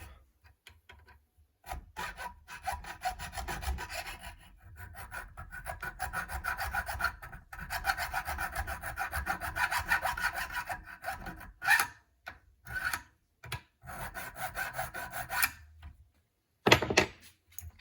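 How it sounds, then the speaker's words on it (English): An 1/8 inch file squares up the front of a trap in repeated rasping strokes, close and fairly loud, arriving in bursts with short pauses between runs of scraping. "take yourself an 1/8 inch file there. Square up the front."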